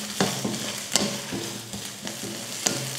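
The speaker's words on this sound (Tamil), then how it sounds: "ஒரு பெரிய வெங்காயம், 4 வரமிளகாய், 2 பல் பூண்டு. இப்போ இதை வதக்கிடலாம்." Onion, four dried red chillies and two garlic cloves sauté in hot oil, a soft steady sizzle broken by several sharp clicks of a spoon stirring against the pan, close and without voices.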